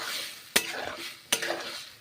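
A paneer and mushroom curry sautés in a pan with a little water, giving a soft steady sizzle broken by two sharp scraping stirs of a spoon against the pan.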